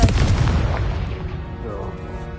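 A Confringo blasting spell bursts in the video game Hogwarts Legacy, a loud booming explosion right at the start that rumbles and slowly fades over a couple of seconds with a voice mixed in.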